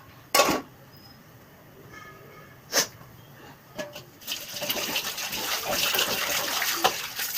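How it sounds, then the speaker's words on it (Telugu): Dishes washed in a kitchen sink: sharp clinks of pots and utensils, then running tap water gushing steadily under the clatter. "పట్ట గిన్నెలన్నీ ఇప్పుడు పడినట్టు వాష్ చేసేస్తున్నాను."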